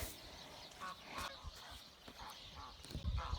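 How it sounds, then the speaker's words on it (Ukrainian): Geese and ducks bathing outdoors, with scattered quacks and honks that come at irregular intervals. The calls are faint and sound somewhat distant, mixed with soft splashing. "Вон там наші купаються і гусики, і вутики."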